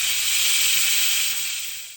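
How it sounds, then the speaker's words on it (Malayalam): A pressure cooker on a high flame releases steam through its whistle. One loud, steady hiss runs alone and starts to fade toward the end. "കുക്കർ അടച്ച് ഹൈ ഫ്ലെയിമിൽ ഒരു വിസിൽ കിട്ടും."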